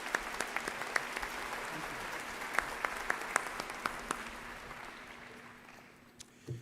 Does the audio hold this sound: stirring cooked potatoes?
no